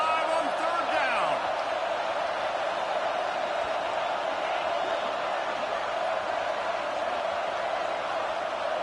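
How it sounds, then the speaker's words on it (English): The Ohio State Buckeyes home crowd roars in a football stadium on third down, a dense, sustained cheer filling the whole stretch, with a commentator's voice over it. "The Buckeye crowd alive on 3rd down."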